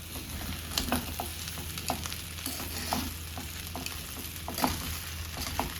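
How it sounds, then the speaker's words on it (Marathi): Khichdi with lemon juice stirred in a hot pan, a low steady sizzle with soft scraping strokes of the spoon recurring at a regular pace, close by. "आणि एकदम मिक्स करायचं छान."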